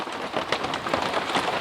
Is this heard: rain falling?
yes